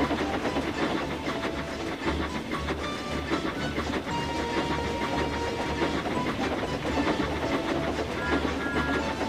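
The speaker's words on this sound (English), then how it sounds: "he puffed happily along his branch line with Annie and Clarabelle" Steam tank engine from the Trainz video game puffing along a branch line with two coaches, a steady loud run of rhythmic chuffs and clattering wheels with hiss, continuous throughout.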